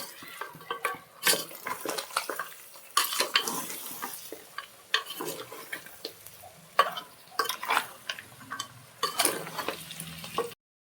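Goat head curry is stirred in a metal pot, a busy run of scraping, clinking and wet stirring strokes that continues steadily for most of the time, close and fairly loud with no talk.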